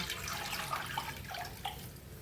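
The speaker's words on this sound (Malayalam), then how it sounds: "അപ്പോൾ ഇനി നമുക്ക് വെള്ളം ഒഴിച്ചു കൊടുക്കാം" Water runs and splashes steadily into a cooking pot, a soft continuous pour with slight gurgles, close by and fairly quiet.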